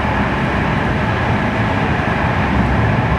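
A steady, loud rumble fills the cabin of a moving train, dense and unbroken from start to finish with no voices.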